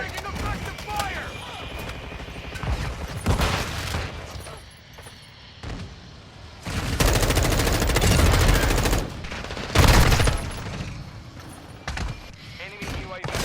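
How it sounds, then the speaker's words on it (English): Gunfire in a military shooter video game, with loud bursts of automatic fire and scattered shots, under radio-style voice callouts and battle noise. "Took a round. Taking fire. Taking effective fire."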